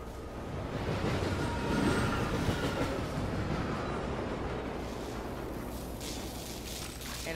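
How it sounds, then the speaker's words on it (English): A subway train in the Call of Duty zombies map Shaolin Shuffle rumbles in, a loud low roar swelling then easing as it rolls to a stop, with rattling and a hiss near the end. "So just wait for this train."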